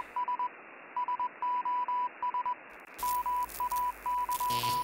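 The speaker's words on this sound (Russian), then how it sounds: "Азбука Морзе, ёлки-палки." Morse code beeping opens a track: a steady high tone in short and long pulses, first nearly alone over faint hiss, then continuing over a louder, denser music bed.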